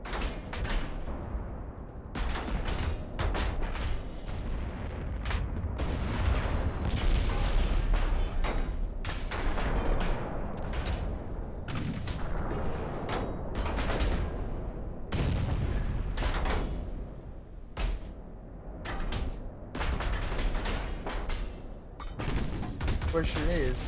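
Eighteen-inch naval guns firing in the naval warfare game Ultimate Admiral: Dreadnoughts, a dense, continuous barrage of heavy booms and sharp gun reports with rumbling low end, loud throughout.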